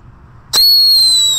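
A paper-wrapped whistling firecracker is lit and bursts into a sudden loud, sustained high-pitched whistle that starts sharply after a quiet moment and holds steady to the end.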